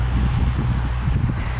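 Blustery wind buffets the microphone in a low, continuous rumble with uneven surges and a faint rustle.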